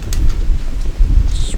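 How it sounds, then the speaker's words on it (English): Wind buffets a microphone outdoors in low rumbling gusts, loud and close throughout, with a brief thinner rush near the end. "Oh, the wind."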